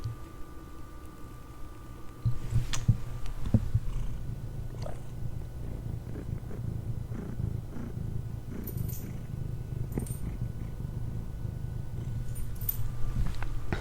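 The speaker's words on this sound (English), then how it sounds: "I just wanted to see if you could hear her purring" A soft, low, continuous purr rumbles steadily throughout, close by, with occasional faint rustles and small clicks on top.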